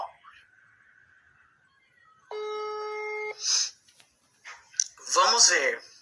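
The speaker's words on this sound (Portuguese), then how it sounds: "Cinco toques e a gente desiste." A telephone ringback tone sounds once, steady and clear for about a second, while a call is placed, with a person talking quietly before and after it.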